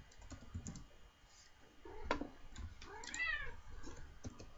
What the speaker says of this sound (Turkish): ve kedi beni rahatsız etti.